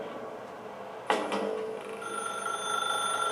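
A telephone rings in The Stanley Parable video game, one sudden bright electronic ring that starts abruptly and sustains with a lingering metallic tone, close and clear with no talking.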